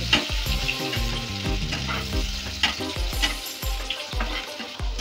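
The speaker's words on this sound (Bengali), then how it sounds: "পেঁয়াজটাকে তেলের সাথে নাড়াচাড়া করে হালকা ব্রাউন করে ভেজে নিতে হবে।" Two medium onions, chopped, fry in hot oil while being stirred toward light brown: a steady, crackling sizzle with repeated scraping strokes of a spoon against the pan, close and continuous.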